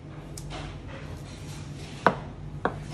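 A chef's knife trims the belly from a portioned sea bass fillet on a board, giving two short, sharp cutting knocks close by over a quiet kitchen hum.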